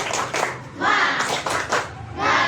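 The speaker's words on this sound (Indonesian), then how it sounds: "Coba tepuk semangat" Schoolchildren in an elementary Islamic studies class perform the tepuk semangat rhythmic clap, with bursts of clapping mixed with young voices chanting along in a lively room.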